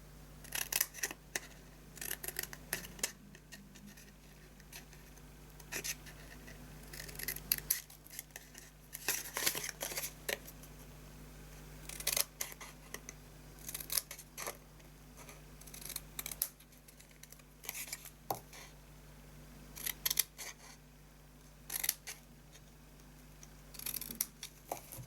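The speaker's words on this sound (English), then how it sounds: "we're going to snip into the corners and snip a little wedge out" Scissors snip into the corners of paper card while a handmade book box is being cut, giving a series of small, crisp, close snips in irregular bursts against a quiet background.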